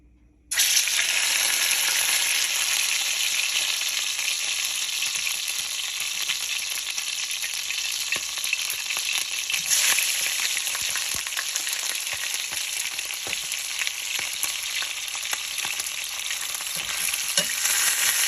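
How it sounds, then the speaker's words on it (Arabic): Pigeons fry in a pan for stuffed pigeon, a steady loud broadband sizzle that starts abruptly after a short silence and holds for the whole stretch, with faint crackles and stirring scrapes and no talking. "هنحمر الحمام دلوقتي اهو"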